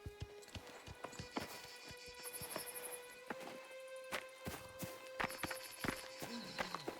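Horse hooves clip-clopping in the Mafia: The Old Country video game, a fast rhythmic run of close hoofbeats with creaks and rattles of tack over it.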